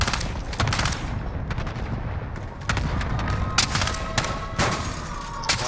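Separate single-fire gunshots crack out one after another in a Call of Duty Resurgence quads match, loud and close, spaced irregularly over a steady background of in-game noise.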